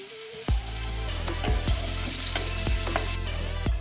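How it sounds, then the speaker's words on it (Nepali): Garlic sizzling in hot oil with potatoes for a Nepali potato and bethu saag, a steady close frying hiss broken by several sharp clanks of a spoon stirring against the pan. "अब अहिले हामीले पिँधे राखेको लसुन पनि एकछिन फ्राई गरौँ"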